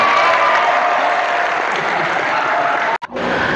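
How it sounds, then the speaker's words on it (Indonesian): Hall audience applauding at a school motivation event, a loud continuous wash of clapping that briefly cuts out near the end before resuming. "Tepuk tangan buat kita hari ini."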